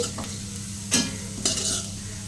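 Coriander seeds stirred in a dry kadai, a soft continuous sizzle with two brief louder scrapes of the spoon against the pan.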